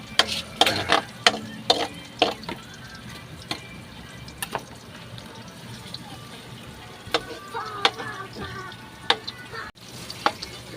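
Ingredients sauté in a pan with a low sizzle under sharp, scattered scraping and stirring clatters from a utensil, and faint talking can be heard around it.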